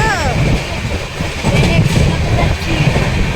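Steady rumble and rattle of a passenger train running on its rails toward Kolkata, heard from inside the carriage as continuous broadband noise with faint voices in the background.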